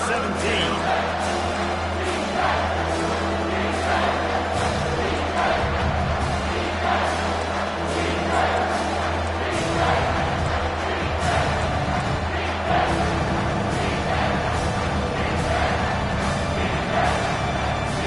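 A stadium crowd in the NCAA 25 college football video game roars in a loud, continuous wash of cheering and noise, with game commentary spoken over it throughout.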